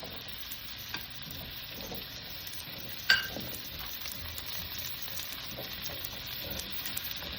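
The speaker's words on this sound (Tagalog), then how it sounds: "Add the onions." Onions sizzle steadily in a hot pan for chicken chop suey, a constant close hiss with a few stirring clinks and one sharp tap.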